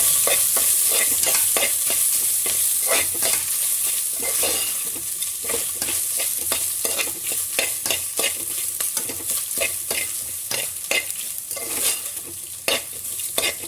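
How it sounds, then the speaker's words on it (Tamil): Sliced green chilies and curry leaves crackle and hiss in hot oil in a pot, with continuous rhythmic stirring clatter over the steady sizzle. "மூணு பச்சை மிளகா இந்த மாதிரி கட் பண்ணிட்டு சேர்க்குறேன் கருவேப்பிலை கொஞ்சம்"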